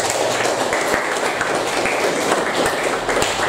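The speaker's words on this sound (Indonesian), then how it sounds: "Maka dari itu aplaus untuk kalian semua." A classroom of students claps steadily, a dense continuous patter of many hands with sharp individual claps standing out throughout.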